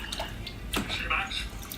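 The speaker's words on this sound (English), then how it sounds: "Put your hands in the water to clean them off." Hands swishing and dripping in a basin of water, light splashes and trickles under a steady background, close by, with a voice speaking over part of it.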